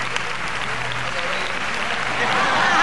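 A large concert audience applauds in a sustained, loud patter of many hands, the clapping swelling slightly toward the end, with faint voices underneath.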